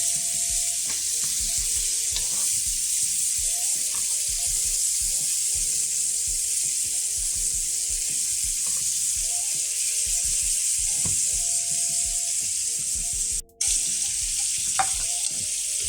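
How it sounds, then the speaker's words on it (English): Steaks sizzle loudly and steadily in a pan while being basted with garlic and thyme butter, a constant close frying hiss with small pops and spoon scrapes throughout. "What we're going to do is bathe these steaks with a little flavorful butter"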